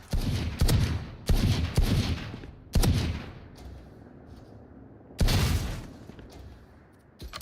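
Bursts of Phantom rifle fire in Valorant, several loud close volleys of rapid shots separated by pauses, with a long final burst after a quiet stretch.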